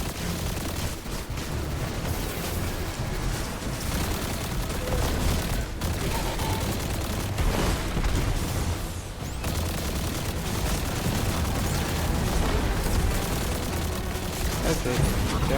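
Dense, continuous gunfire and booms from turrets in the video game Echoes, a loud, sustained barrage with bursts overlapping throughout and no pause.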